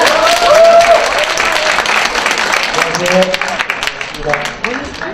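Audience applause welcoming a speaker at a Korean lecture on village-building, a steady wash of clapping that thins toward the end, with a voice talking over it.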